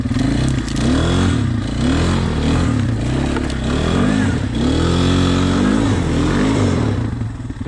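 Yamaha and Suzuki dirt bikes rev hard off-road in thick mud. The engines are loud and close, rising and falling in pitch, with rattling and scraping underneath.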